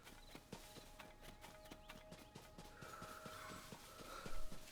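Horse hooves in Zelda: Tears of the Kingdom clip-clop at a steady walking rhythm, soft and moderately close, with game ambience and a faint tone behind them.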